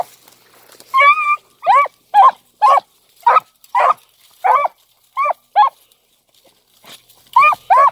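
A puppy whimpers and yelps in a series of about a dozen short, high, whiny cries in a loose rhythm, close and loud against near silence.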